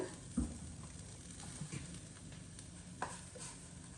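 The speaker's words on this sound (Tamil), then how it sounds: "இதுக்கு கொஞ்சம் கொஞ்சம் எண்ணெய் இப்படி விடுறது விட்டு போட்டு" Quiet, faint sizzle of a little oil in a frying pan for drumstick leaf stir fry, with occasional soft crackles and a stirring clink, heard close but low in level.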